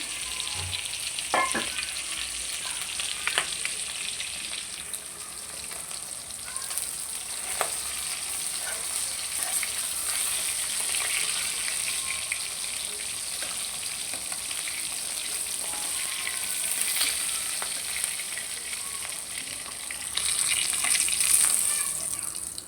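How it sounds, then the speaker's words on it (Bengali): Steady sizzle of fish frying in oil, a continuous crackling hiss with occasional louder pops and utensil clicks, close by, no talking. "যেহেতু সবজি দিয়ে রান্না করবো, মাছগুলো অত একটা ভাজবো না, হালকা ভেজে নিচ্ছি।"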